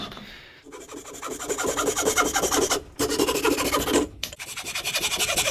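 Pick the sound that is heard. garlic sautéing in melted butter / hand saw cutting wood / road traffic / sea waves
hand saw cutting wood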